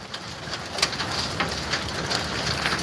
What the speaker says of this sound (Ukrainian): Дивіться, який град. Це все град.